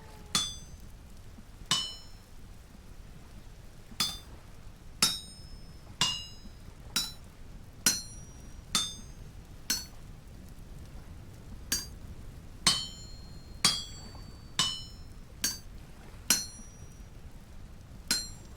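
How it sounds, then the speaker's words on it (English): Copper is chiseled in Vintage Story, heard as about twenty sharp metallic clinks struck one at a time at an uneven, unhurried pace, each ringing briefly and cleanly over a quiet background. "Now we just got to chisel off the parts that aren't needed."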